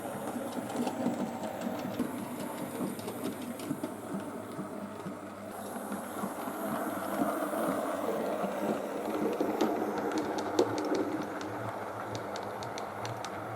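A model locomotive's electric motor and gearbox run continuously with a quiet, smooth whirring hum and fine rapid ticking from the drive, steady throughout with slight variations in level.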